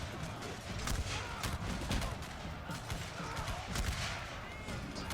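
Battle gunfire in a strategy video game of the Unequal Treaties era, with Britain at war: dense, continuous crackling shots mixed with distant rumbling fire across the whole stretch, with a voice speaking over the shooting.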